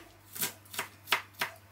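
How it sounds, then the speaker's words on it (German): A kitchen knife strikes a cutting board four times in a slow, even rhythm while finely chopping onion, each cut a crisp, close tap. "Aber erstmal schneide ich ganz klein Zwiebel"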